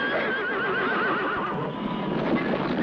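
A horse neighs with a long wavering whinny, loud and close, trailing off into a noisy outdoor background.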